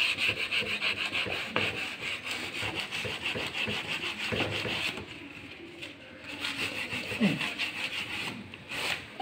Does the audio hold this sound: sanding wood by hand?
yes